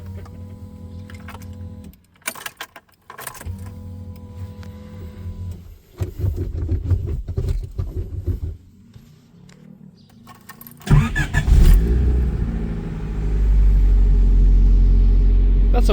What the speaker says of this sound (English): hook the battery up, and she starts. First turn of the key.